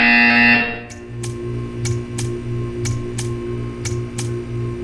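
In the Portal 2 video game a buzzer goes off as a loud electronic tone. Steady rhythmic ticking clicks follow over a low hum, with no speech.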